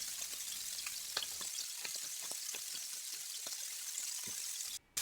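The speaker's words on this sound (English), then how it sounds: "They go in a hot pan on high heat, and I'll flip them every minute and a half to 2 minutes until they're done." Steaks sear in a hot pan on high heat, giving a dense, continuous sizzle with scattered crackles and pops, close and steady, then a brief drop near the end.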